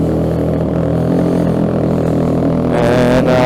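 Loud, steady engine idle from a motorcycle fitted with an aftermarket muffler, a dense low rumble running throughout with a slight rise in intensity near the end; no talk.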